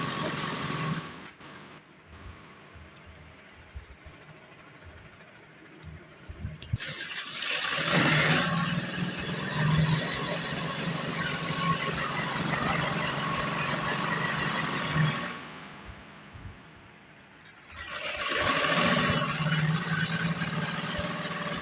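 A sewing machine running in long continuous bursts while stitching a straight salwar, loud and close, with short pauses between seams and a steady mechanical whir.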